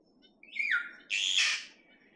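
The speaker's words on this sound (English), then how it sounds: "That's the kākā now." Two loud kākā parrot calls in quick succession, a rising whistled screech then a harsh grating squawk, clear and fairly close, in New Zealand.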